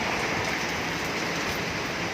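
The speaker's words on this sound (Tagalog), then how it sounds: "Lumakas na ang ulan dito" Heavy typhoon rain pours steadily in a Cebu City street, a dense, constant hiss of water with no pauses, close and moderately loud, with no voices.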